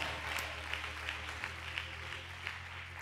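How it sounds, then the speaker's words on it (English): Church congregation clapping hands in a steady wash of applause over a low sustained tone, continuous throughout. "If you love the bishop, would you get loud and clap your hands?"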